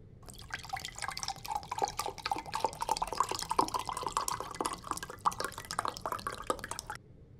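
Water is poured into a glass at close range in a quiet room. The trickle runs steadily for about seven seconds with a rising fill tone and small splashes, then stops abruptly.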